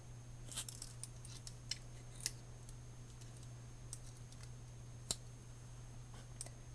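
Scissors on a Victorinox Swiss Army Climber pocket knife clicking open and shut, a few faint, sharp snaps spaced irregularly against a steady low hum, close by with no talking.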